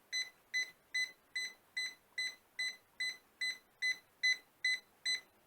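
A car with a dead battery that won't start beeps in a steady series of about thirteen evenly spaced electronic beeps, faint and regular, with no talking.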